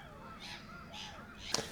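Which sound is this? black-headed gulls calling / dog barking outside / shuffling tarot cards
black-headed gulls calling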